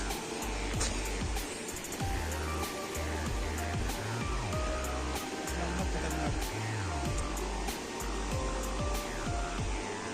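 Rushing river water near Tamasin waterfall in Chatra, a dense, steady roar of flowing water over rocks that stays loud and unbroken throughout, with some low rumbling underneath.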